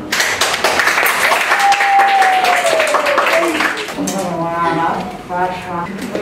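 A classroom of students claps for a classmate in a science lesson, a dense burst of applause with children's voices mixed in, fading toward the end.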